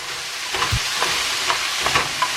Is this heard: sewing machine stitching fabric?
no